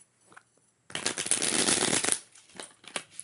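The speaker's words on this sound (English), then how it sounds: "Do a quick little shuffle." Tarot cards shuffled by hand: a second-long riffle of rapid card flutters up close, followed by a few light taps and soft card handling.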